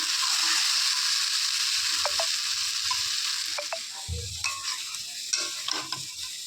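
A spiced dish with garam masala sautés in a pan in a home kitchen. A steady loud sizzle gradually fades as a spatula scrapes and stirs in short, irregular strokes, with no talking.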